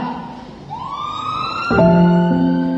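An ambulance siren in a radio drama sweeps upward, then settles into a loud, steady wailing tone that fills the short passage with no voices over it.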